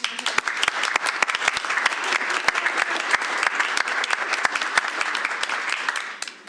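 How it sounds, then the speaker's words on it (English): A room full of people at a board meeting claps steadily and briskly for several seconds, sharp dense hand claps that fade slightly at the end. "Let's give her a big round of applause."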